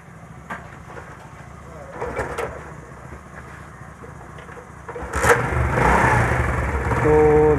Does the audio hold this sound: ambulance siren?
no